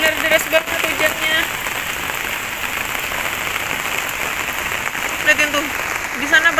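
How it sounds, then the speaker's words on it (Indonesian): Heavy rain pours down steadily during a downpour, a dense, continuous hiss of drops striking surfaces with occasional louder splashes, loud and close throughout. "tuh jadi emang benar-benar deras banget hujannya"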